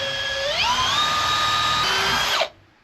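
A power drill bores holes for large screws while improving a chicken coop, one continuous high whine rising in pitch as it spins up, holding steady, then cutting off abruptly near the end. Close and loud, with no talk.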